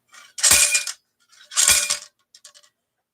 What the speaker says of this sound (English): That's the sound of a clean musket.